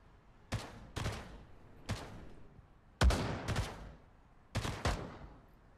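Shotgun blasts in Pavlov VR, a virtual-reality shooter: about six sharp booming shots in irregular pairs, each with a short decaying tail, loud and close with no talk.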